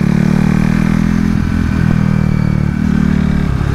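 A KTM RC 390 Cup race motorcycle roars loud and close on a track at Adams Motorsport Park, its engine holding a steady high drone with small shifts in pitch.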